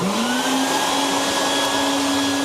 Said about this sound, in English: So I'm going to turn this vacuum on.